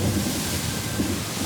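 Heavy tropical storm rain pours down steadily with deep rumbling thunder rolling beneath it, a dense, continuous roar with no voices.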